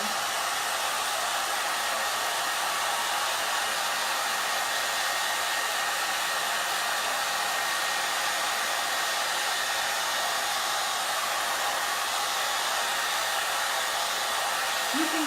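A heat tool set to cool air blows a steady, loud, even rush over a board, drying chalk paste and ink. It runs unbroken throughout with no talking.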